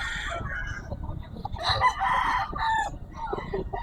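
A Banahaw line gamecock with a straight comb crows once, close and clear, at a market, with faint clucking and low background chatter around it.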